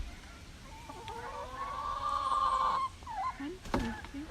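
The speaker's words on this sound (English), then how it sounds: "Can you hear the geese flying over?" Geese honking as a flock flies overhead, heard at a knitting session: clear nasal calls with harmonic tones rising and falling, at a moderate distance, over faint background noise.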